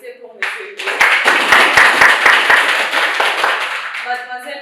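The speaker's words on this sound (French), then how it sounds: "j'aimerais que particulièrement vous applaudissez pour Monsieur Hugo" A room of debate participants claps for Monsieur Hugo after a French debate. Close, crisp handclaps form a dense burst that lasts a few seconds, with voices mixed in, and tapers toward the end.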